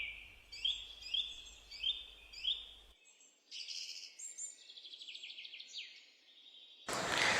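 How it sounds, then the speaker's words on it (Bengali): Birds chirp among trees in Akhaura, with repeated bright rising whistles in short bursts, then a run of rapid chirps, clear against near silence, ending in a brief loud rustle. "আজ আখাউড়ার গাছে গাছে রঙিন ফুল আর পাখির কিচিরমিচির শব্দ শোনা যাচ্ছে।"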